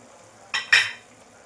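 Two quick scraping stirs of a spoon through yogurt paneer curry with chilli flakes in a pan, close and fairly loud, the second stroke stronger, with quiet background otherwise.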